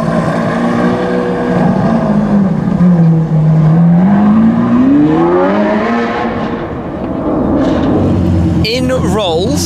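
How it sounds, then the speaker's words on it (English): A loud Lamborghini Aventador S engine revs and pulls away, its pitch rising and falling through gear changes as it drives off, with voices faintly underneath. "Off goes the Aventador S."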